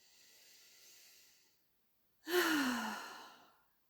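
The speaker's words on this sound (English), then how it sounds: "Take a deep breath." A single deep breath during an intuition tapping session: a soft inhale, a pause of silence, then a long, loud, close exhale sighing out and fading over about a second and a half.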